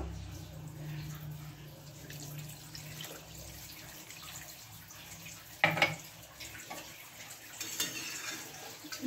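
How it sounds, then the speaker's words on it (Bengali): Water is poured into a thin Bengali chicken curry in a pot, a soft, low splashing pour at the start, followed by quieter kitchen clatter and a couple of sharp knocks. "জল দিয়ে দিচ্ছি এবার ঝোলেতে, একদম পাতলা ঝোল করে নিলাম।"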